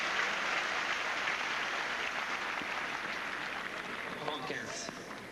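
A tennis crowd applauds after a forehand in a match between Henman and Coria, a broad, even wash of clapping that holds steady and thins slightly toward the end.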